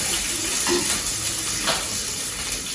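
Onions sauté in a pan for sambar with a steady close sizzle and hiss, broken by a couple of soft stirring knocks.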